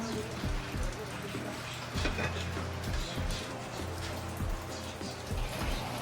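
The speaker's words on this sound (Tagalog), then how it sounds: "Ayan, umulan na guys." Steady evening rain patters across a surface throughout, a dense wash of drops with a low hum and faint background sounds underneath.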